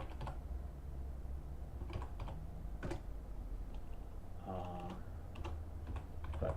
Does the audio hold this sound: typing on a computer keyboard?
yes